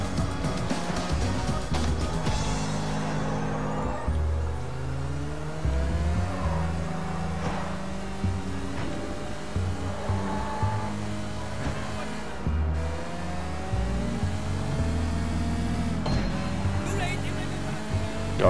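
Car engine in the video game Sleeping Dogs, driving and revving with rising and falling pitch throughout, steady and fairly loud, with someone talking over it at times.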